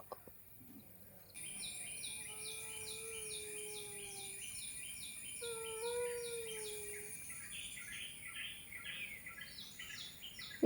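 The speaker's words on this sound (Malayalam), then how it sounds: "എന്താ കിളികളുടെ ഒരു ശബ്ദം" Outdoors, birds sing in a steady repeating trill, with sustained whistled tones and faint chirps, under a quiet background with no talk.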